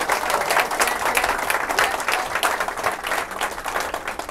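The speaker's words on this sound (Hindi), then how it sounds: "एक बार जरा इनके लिए दिल से ज़ोरदार ताली होनी चाहिए।" An audience at a motivational program breaks into dense, sustained applause, many hands clapping together steadily and loudly for several seconds.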